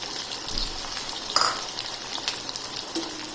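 Snake gourd fry cooking in a pan, giving a steady, fairly quiet oil sizzle with faint scraping stirs and small clinks throughout.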